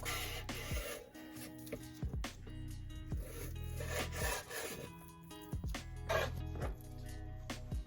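Pork is cut into chunks with a knife on a board: repeated close scraping, sawing strokes and sharp taps of the blade, irregular in rhythm, quiet overall and with no talking.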